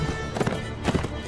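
A horse in the video game Mount & Blade Warband gives two quick pairs of clip-clop hoofbeats at a walking pace, close and moderately loud over a low background hum.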